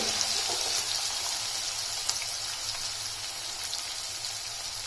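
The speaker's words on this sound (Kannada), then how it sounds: "ಇದಕ್ಕೆ ಸ್ವಲ್ಪ ನಾವು ಚಚ್ಕೊಂಡಿರೋದು ಜಿಂಜರು, ಗಾರ್ಲಿಕ್ ಎರಡನ್ನು ಫ್ರೈ ಮಾಡಬೇಕು." Ginger and garlic frying in a pan for mango rice (mavinakayi chitranna), a steady close hiss and sizzle that holds evenly throughout with no voices.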